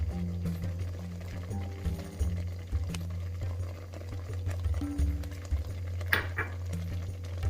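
Pink pasta sauce with black pepper being stirred in a pan, soft scraping and clinking of a utensil against the pan over a low bubbling sizzle, close and continuous without talking.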